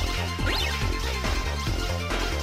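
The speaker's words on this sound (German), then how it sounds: "das ist der Sound von dem ersten Gradius-Boss" Boss sound from the first Gradius boss in the shoot-'em-up game Sexy Parodius: loud, dense synthesized game audio with repeated descending sweeps and pulsing tones in a steady rhythm, no speech.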